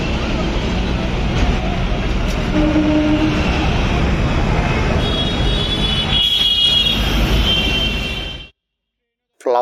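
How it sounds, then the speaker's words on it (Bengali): A moving train near Howrah Bridge by the flower market rumbles loudly and steadily at close range with a rattling roar and a brief high squeal, then cuts off abruptly near the end; no speech. "ফ্লাওয়ার মার্কেটের পাশে দেখতে পাচ্ছেন চলন্ত ট্রেন"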